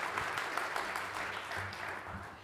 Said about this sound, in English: please put those hands together, make some noise in the same room